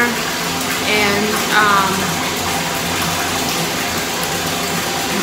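A bathtub filling from the tap, a steady loud gush of running water pouring continuously, with a faint voice briefly under the flow.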